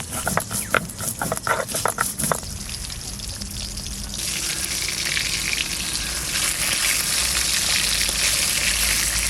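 Pieces of fish, likely chital belly, frying in hot oil in a home kitchen: a few sharp clatters up front, then a steady, dense, hissing sizzle that swells and holds close and loud to the end, with no voices.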